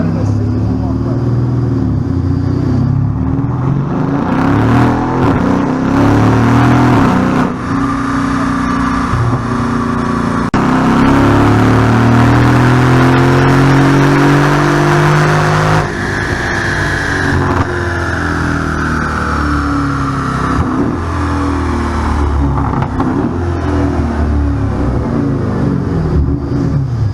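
A car engine revs hard and continuously on a dyno during a performance dyno day, a loud sustained roar that climbs in pitch, eases, then surges again, with people talking over it.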